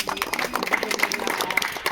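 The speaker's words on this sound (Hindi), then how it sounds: "तालियों के बौछार एकदम रहे।" An audience claps at an Independence Day celebration, a continuous crowded patter of applause with some voices mixed in, fairly loud and even throughout.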